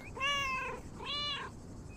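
Mortimer, a video game cat, gives two clear, bright meows in quick succession, each about half a second long, over a quiet background.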